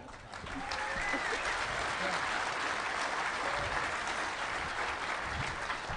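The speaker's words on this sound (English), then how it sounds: "You're going to be doing a lot of clapping. Keep it up." A conference audience at the DEF CON 17 hacking convention closing ceremonies claps steadily. The dense, even applause fills the whole stretch at constant loudness after a brief build at the start.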